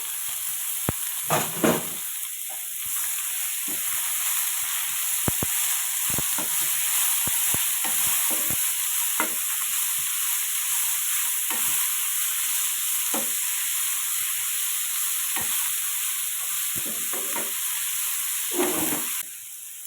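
Thota kura (amaranth leaves) frying in a pan give a steady close sizzle and hiss, broken by frequent light stirring clinks and scrapes throughout.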